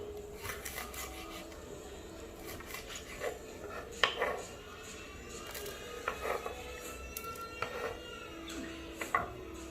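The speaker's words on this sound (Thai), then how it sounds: "หั่นพริกก่อน" A knife chops chili peppers on a board in a home kitchen during cooking, with quiet irregular taps and scrapes that come close together, faint and alone with no talking.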